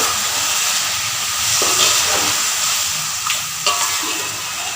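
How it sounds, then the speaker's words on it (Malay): Chicken sambal with soy sauce, oyster sauce and salt sizzles steadily in a pan as it is stirred, a loud continuous frying hiss with occasional scraping, and no talk. "Keep stirring this."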